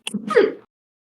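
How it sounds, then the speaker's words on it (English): A single sharp sneeze, close and fairly loud, a quick intake followed by the burst, then silence. "And sneeze."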